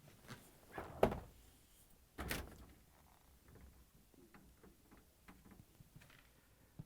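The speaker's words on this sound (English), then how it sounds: "To get to the part, we need to open both French doors." French doors of an LG/Kenmore refrigerator swing open, with a sharp thunk near the start followed by a second louder release and faint ticking and shuffling handling noises afterward.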